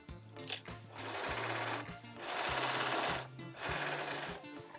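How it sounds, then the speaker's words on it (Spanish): A sewing machine set to zigzag stitch runs in three loud bursts of fast whirring and needle clatter while sewing a simple blouse, with short pauses between runs and no talking. "y voy a colocar mi máquina en modo zigzag."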